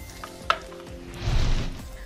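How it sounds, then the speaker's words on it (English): Akara bean fritters fry in oil that sizzles and crackles, with a sharp clink early on and a louder burst of frying hiss swelling up near the end. "So I'm going to keep frying the akara until I exhaust the batter."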